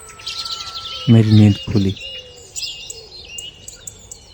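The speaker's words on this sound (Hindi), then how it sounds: "अगले दिन सुबह चिड़ियों की चहचहाट के" Small birds chirp and tweet at dawn, a few high bright calls scattered across the clip, while a voice briefly speaks over them.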